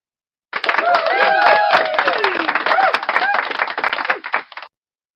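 A round of applause from a small group: brisk, crackly clapping for about four seconds that swells and fades, with bright whoops and voices mixed in.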